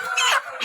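A market chicken gives a brief, fairly faint cluck or two with a slight rise in pitch, heard alone in a very short burst.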